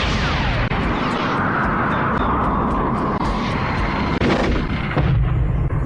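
Spaceship cannons fire during a weapons check in an anime battle, a loud continuous rumbling barrage with blasts and engine roar layered densely throughout.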